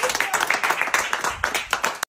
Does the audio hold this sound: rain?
no